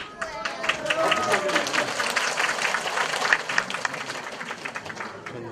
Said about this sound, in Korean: 이번 행사에 참여해서 수강하신 모든 분께 다시 한번 뜨거운 박수 부탁드립니다